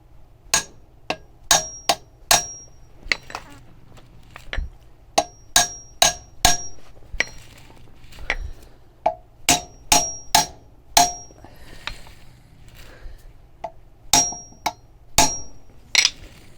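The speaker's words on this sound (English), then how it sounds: "let's hammer it in here." Sharp metallic hammer strikes driving in a rear main seal on a C3 Corvette Chevy 5.7L engine, irregular in rhythm, some in quick pairs, ringing close by with short pauses between bursts.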